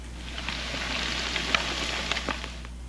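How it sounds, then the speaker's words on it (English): Steady, close sizzling of battered fish frying in hot oil in a pan, a continuous crackling hiss with small pops, under a low constant hum. "you basically just want a nice little sizzle"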